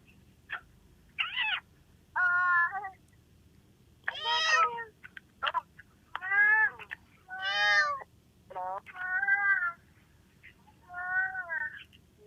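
A cat meows repeatedly, about a dozen plaintive calls of varying length at irregular intervals, close and clear over a faint low hum.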